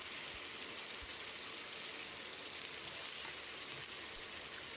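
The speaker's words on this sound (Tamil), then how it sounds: "இந்த மசாலாவோட பச்சை வாசனை போகிற அளவுக்கு 1 நிமிஷம் நல்லா ஃப்ரை பண்ணி விடணும்" Masala and vanjaram king fish fry in a pan, giving off a soft, even sizzling hiss that holds steady and fairly faint for a few seconds, with no speech.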